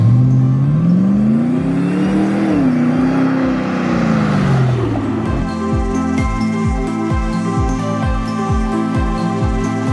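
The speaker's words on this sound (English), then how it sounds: "This 110 is powered by our LT4 engine with 8-speed automatic transmission." A Land Rover Defender 110 with an LT4 engine and 8-speed automatic revs loudly, its pitch sweeping up and falling back, then it settles into a steady, throbbing rumble with rhythmic pulses close by.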